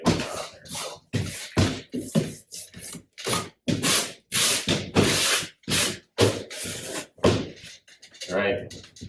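Screws are driven into flooring underlayment for a homemade track saw guide, giving repeated whirring bursts with short pauses between them, close and loud, with a voice talking over part of it.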